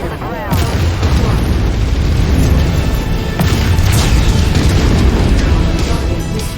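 Loud, rumbling explosions as targets are destroyed in the MechWarrior 5 video game, heavy booms and crackling blasts layered over continuous battle noise, with a voice speaking over them.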